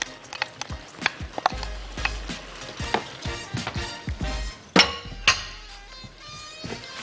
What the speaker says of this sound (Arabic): هقلب كده كويس قوي الرز مع الفراخ قبل لما ازود له اي بهارات